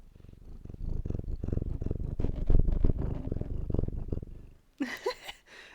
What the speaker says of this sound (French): Et ça ronronne doucement, mais ça ronronne.